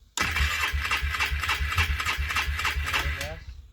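A cold engine cranks over repeatedly with full choke, a loud, rhythmic chugging of the starter turning the motor in regular pulses for several seconds before it cuts off, heard up close.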